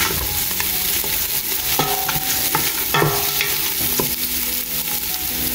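A spice mixture containing ground coriander seeds is stirred in a steady, continuous scraping and swishing over a constant broadband hiss, close and fairly loud, with no voices.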